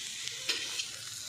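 Grated coconut and onion frying in hot coconut oil give a brief, bright, steady sizzle with a couple of faint stirring scrapes.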